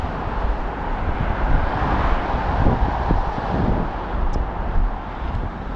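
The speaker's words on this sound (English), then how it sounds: "It's getting windy." Wind rushes and buffets across a microphone outdoors on a cool day, a steady broadband roar with gusty swells, fairly loud and alone.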